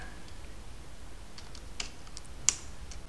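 Quiet, irregular clicking of computer keyboard keys as code is typed, soft close taps with a sharper keystroke partway through.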